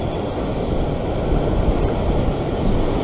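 Ocean surf washing steadily against rocks at a rocky fishing ledge in Sydney, Australia, where float fishing for luderick is underway; a loud, continuous broadband roar with no pause and no voices.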